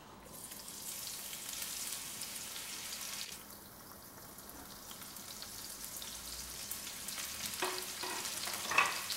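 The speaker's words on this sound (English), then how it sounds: "So fry the onions." Onions fry quietly in a pan with a faint, continuous crackling hiss and a few soft stirring clicks near the end, low in level throughout.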